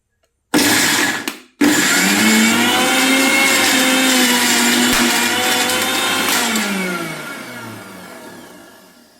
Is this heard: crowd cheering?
no